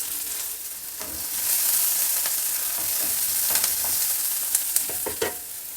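Onions and chopped green chillies frying in a pan while being stirred, a steady close sizzle with scraping stir strokes and small pops, no talking.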